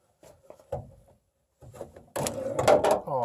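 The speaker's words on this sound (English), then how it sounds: "I got bolt cutters here, and that is going to cut this wire like butter" Bolt cutters bite through a car battery wire: a few light clicks and scrapes as the jaws are positioned, then a sharper, louder crunching burst near the end, close up.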